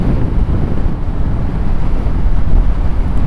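Strong wind roars into the microphone outdoors on a hilltop road trip near Chambhargad, a loud, steady low rumble with gusty buffeting throughout and no voices.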